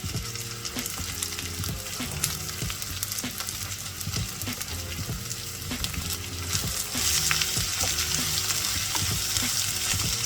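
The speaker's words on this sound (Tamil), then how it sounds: "அடுத்ததாக எடுத்து வச்சிருக்கிற வெங்காயம், மிளகாய், கறிவேப்பிலை எல்லாத்தையும் போடுறேன்" Onions, chillies and curry leaves fry in hot oil in a pan for a Jaffna-style vada curry, giving a steady, close sizzle with a spoon stirring and clinking now and then.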